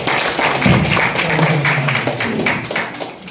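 Wedding guests clap together at a Christian wedding ceremony, a dense, steady patter of hands lasting a few seconds with a low murmur of voices beneath.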